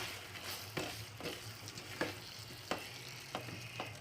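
Beetroot halwa with roasted cashews is stirred in a hot pan, giving a steady close scraping swish with soft sizzling and several distinct spoon strokes and knocks, no voices.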